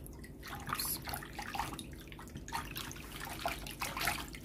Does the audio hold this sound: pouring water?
yes